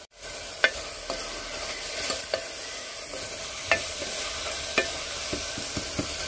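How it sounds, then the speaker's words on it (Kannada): Ingredients for aloo methi pulao frying in a pan, a steady close sizzle broken by repeated sharp scrapes and taps of a spatula stirring, with no talking. "ಚೆನ್ನಾಗಿ ಹುರ್ಕೋತಾ ಇದ್ದೀನಿ, ಹಸಿ ವಾಸನೆ ಹೋಗೋ ತನಕ ಹುರ್ಕೊಳ್ತಾ ಇದ್ದೀನಿ."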